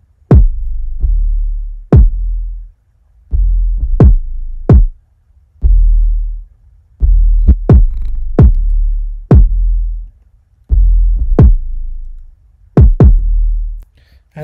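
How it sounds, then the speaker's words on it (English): Deep, booming 808 bass hits in a syncopated pattern, each note swelling and cut short by sidechain ducking, loud and alone with no voices. "this is the 808 with the ducking happening"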